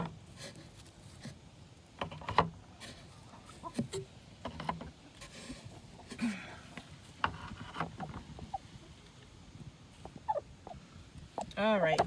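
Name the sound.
broody hens clucking while eggs are collected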